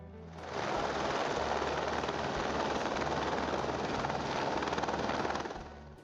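Firefighting helicopter collecting water, its rotor thudding loud and close in a steady, continuous roar that fades in and then drops away at the end.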